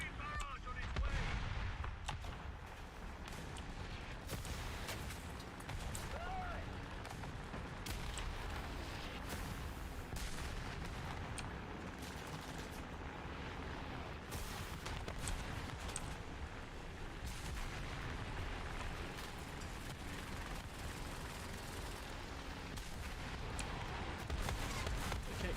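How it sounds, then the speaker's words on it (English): Artillery barrage in the War Thunder video game, a long run of heavy booming impacts and rumbling blasts, some sharp and near, others dull and distant, rolling on under steady battle noise. "Artillery barrage on its way."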